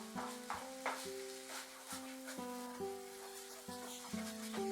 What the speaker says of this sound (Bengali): তারপর নাড়তে নাড়তে এটাকে একটু ফ্রাই করে নেব।